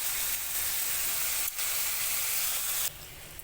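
Meat sizzles steadily in a pan on a stove turned to medium heat, a dense continuous hiss with a brief dip midway and a slight drop near the end, no talking.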